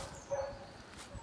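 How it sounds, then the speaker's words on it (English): Dogs barking from a distance at a rural property in Central Portugal, one short yelp standing out above a steady outdoor background. "Dogs are barking, they're furious I've left them."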